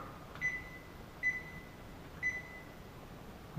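Kitchen timer being set while a kale dish simmers: three short, clear electronic beeps at roughly one-second intervals, close and moderately loud over quiet background hum.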